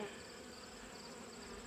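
Bees buzzing around beehives in an apiary yard, a continuous even hum of many insects, steady and moderately faint with no talking.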